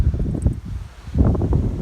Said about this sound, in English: Right, it's getting windy.